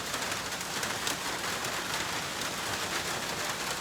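Rain falls steadily at a campsite, a dense, even hiss of drops on surfaces that stays constant and fairly loud with no voices.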